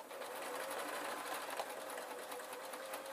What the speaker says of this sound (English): I put it under the foot of the machine, and I'm literally then sewing on